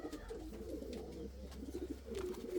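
Indian fantail pigeons in a breeding loft cooing softly, with soft repeated throaty coos rising and falling close by over a low steady hum.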